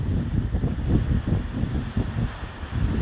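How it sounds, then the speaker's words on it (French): Waves wash steadily against the shore of Lake Michigan on a very cold, breezy day, a continuous low rumbling surge with wind noise buffeting the microphone throughout. "Regarde, t'as les vagues là."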